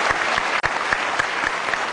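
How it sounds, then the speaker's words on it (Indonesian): Studio audience applause on a live Indonesian television talk show, steady dense clapping sustained throughout with no talk over it. "Kita kasih tepuk tangan Marsha, terima kasih."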